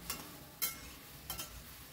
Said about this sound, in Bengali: সবজিটা খুব বেশি রান্না করব না, সবজিগুলো একটু নরম হয়ে গেলেই আমার হয়ে যাবে। তাই অনবরত নাড়ছি।